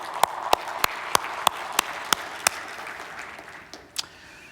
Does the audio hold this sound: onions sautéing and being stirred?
no